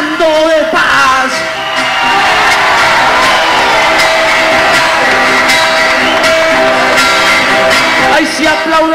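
A loud crowd at a Monterrey rap battle cheers, whoops and shouts continuously, with a dense, sustained roar that stays high throughout.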